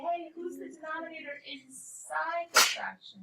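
A sharp sneeze bursts out once, loud and close, in the middle of a teacher's talk during an honors precalculus class.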